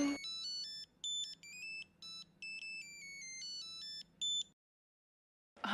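A phone's electronic melodic ringtone plays several short chiming bursts, clear and close, then stops into silence.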